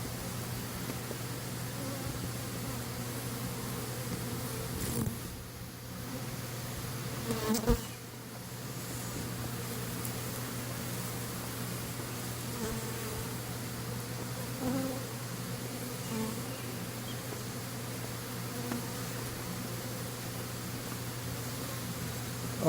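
A steady, close drone of many honey bees buzzing continuously at a hive, with a low hum beneath and no talking.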